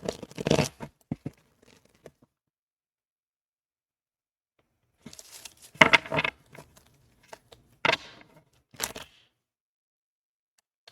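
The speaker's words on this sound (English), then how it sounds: "It's the way I'm shuffling." Tarot cards are shuffled by hand in a few separate bursts of quick riffling and rustling, close and soft, with quiet pauses between them.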